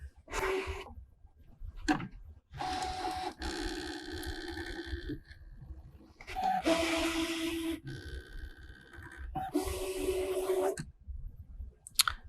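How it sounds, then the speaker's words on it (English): Scan and Cut machine making test cuts in felt, several bursts of whirring motor movement separated by short quiet gaps, close and fairly soft. "So I've got that test cut loaded"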